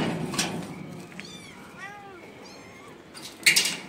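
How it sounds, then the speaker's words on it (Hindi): Hungry kittens and a cat meow loudly in a room, with several rising, wavering calls in succession and a sharper burst near the end, over a low background murmur. "वो बहुत चिल्ला रहे हैं क्योंकि उनका दूध का टाइम हो गया है"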